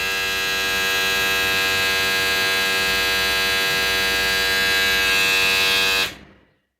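Wahl Vanish electric shaver buzzing close and steady at a constant pitch, then switching off near the end as the hum quickly fades to silence.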